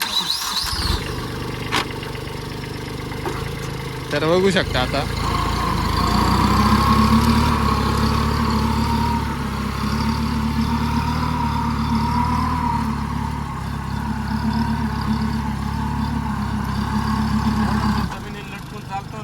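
A heavy Swaraj Target tractor diesel engine cranks, catches and settles into a steady low rumbling idle for several seconds before cutting off, with someone talking over it.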